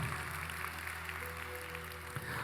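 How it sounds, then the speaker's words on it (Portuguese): A church congregation applauds, producing a dense, steady wash of clapping that continues throughout over a low organ-like hum. "Você pode aplaudir a Jesus?"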